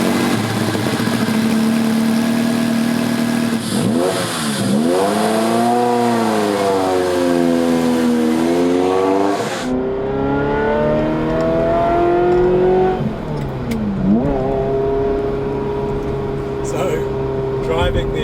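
A 1997 Ferrari F355 GTS with a 6-speed manual and targa top drives on the road. The engine revs rise and fall through several gear changes, loud and close, in a steady continuous roar.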